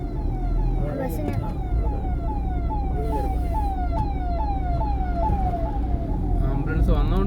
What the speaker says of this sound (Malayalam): ആംബുലൻസ് പോകുന്നുണ്ട്